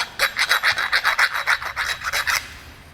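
A hand file rasps back and forth over a metal U-joint yoke to remove burrs, about a dozen quick, even close strokes in steady rhythm, then stopping.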